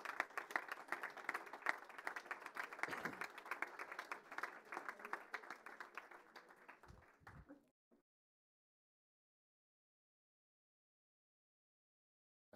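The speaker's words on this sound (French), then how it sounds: "on peut les applaudir" An audience claps at a football awards ceremony, the applause dense and steady for several seconds before tapering off abruptly into silence.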